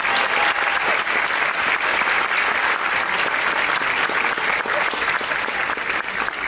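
Steady, dense applause from a live audience at a success-story talk fills the whole stretch, loud and continuous with a crowd murmur underneath and no speech.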